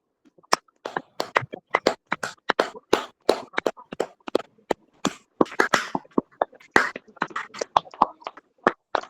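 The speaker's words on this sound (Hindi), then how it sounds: "उच्च ताली लगा के प्रभु की महिमा करते हैं" A church congregation claps loudly in praise, with sharp, close claps in a quick and slightly uneven rhythm, and faint voices between them.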